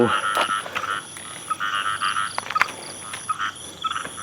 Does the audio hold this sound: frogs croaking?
yes